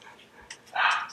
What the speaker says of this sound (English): Lucy only seems to bark when I'm filming videos